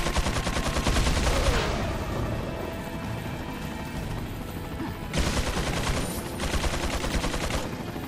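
Enemy machine gun fire in Resident Evil 4, loud sustained bursts of rapid automatic shots, a long volley, a pause, then another burst.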